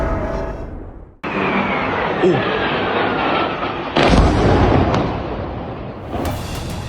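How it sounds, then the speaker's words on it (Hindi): A blast at Nur Khan airbase, a sudden loud boom that cuts in and is followed by a sustained roaring rumble, with a second heavy burst a few seconds later, close and powerful. "ये अभी एक दूसरा ब्लास्ट भी हुआ है हमारी ये नूर खान एयरबेस पे"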